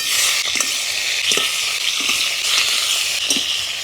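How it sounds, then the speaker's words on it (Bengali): Crab claws frying in mustard oil in a village-style kadai: a dense, steady sizzle and hiss, with a few soft clicks and knocks from stirring rising above it, close and continuous with no voices. "এবার কাঁকড়ার দাঁড়াগুলোকে ভেজে নেব"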